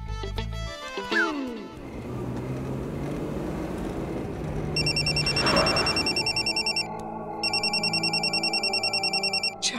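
A telephone rings with a rapid, pulsing electronic trill that starts midway, pauses briefly, then resumes loudly over busy background sound and music.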